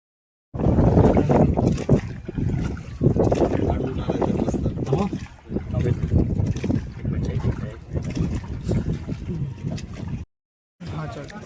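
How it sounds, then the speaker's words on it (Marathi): A boat ride on Veena Lake, Mahabaleshwar, with a rowing or paddle boat carrying a group. Loud, steady water and wind rush fills the recording close to the microphone, and voices seem to talk underneath, before a brief drop-out near the end. "फायनली आमची बोटिंग झाली."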